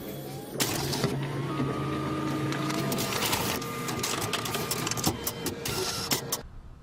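An office copier runs a scan-and-copy cycle, its carriage motor whirring steadily with mechanical clicks and clunks near the end, loud and close with no talking.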